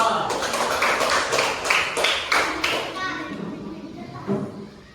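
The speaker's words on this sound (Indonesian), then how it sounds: "tepuk tangan untuk kelompok 2" Children in a classroom clap for a group, a burst of quick, rhythmic claps that fades out partway through as young voices chatter underneath.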